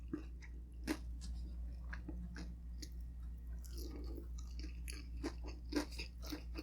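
Chewing tender pork meat from Filipino dinuguan, a pork blood stew: close, soft, moist mastication with irregular small crunchy bites and smacks over about six seconds, quiet and with no talking.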